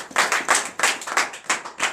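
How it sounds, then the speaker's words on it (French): Church congregation applauding together in steady bursts of hand clapping, loud and close, with a rhythmic surge roughly every third of a second and no talk over it. "donnez l'acclamation au Seigneur Jésus."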